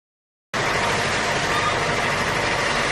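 A tractor engine starts abruptly after half a second of silence, then runs at a steady, loud, broadband drone close by.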